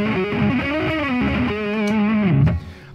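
A Gibson Custom electric guitar with EMG active pickups plays a short distorted phrase that ends in a final strum and cuts off, loud and close with no speech.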